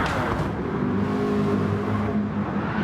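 Gr.3 race cars at Circuit de La Sarthe in a racing video game roar side by side on the final lap, a loud, steady engine drone with shifting revs throughout.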